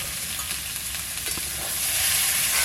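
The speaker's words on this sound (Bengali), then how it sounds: "এই যে আলু আর পটল হালকা করে একটু ভেজে নিয়েছি" Potato and pointed gourd pieces fry lightly in a pan for a fish curry, a close, steady sizzle with occasional stirring scrapes that grows slightly louder toward the end.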